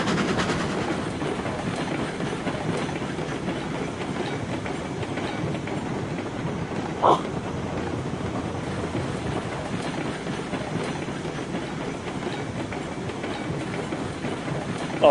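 A steam locomotive runs in the train simulation game Railroads Online, producing a steady, loud rumble with rhythmic wheel clatter over the rails throughout, plus one short sharp accent partway through, with no talking.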